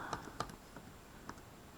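Several light, sparse taps on a computer keyboard or calculator keypad, close and fairly quiet, with short gaps between the keystrokes and no talking.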